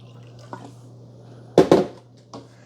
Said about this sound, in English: let's pour some out of the pitcher with the ZeroWater